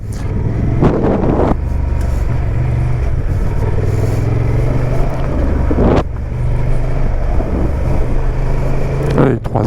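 Honda Transalp 750 or Yamaha 600XT motorcycle riding with a steady low engine drone, wind buffeting the microphone and brief changes in tone as gears shift, with a person speaking over it.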